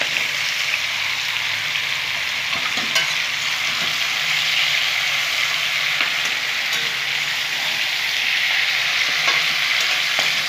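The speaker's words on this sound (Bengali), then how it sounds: "হাই ফ্লেমে রেখেছি গ্যাসটাকে, খুব সুন্দর করে আমি নেড়ে চেড়ে নেবো।" Boiled cauliflower stalks are stir-fried over a high gas flame, a continuous loud sizzle broken by occasional scrapes and clinks of a spatula against the pan.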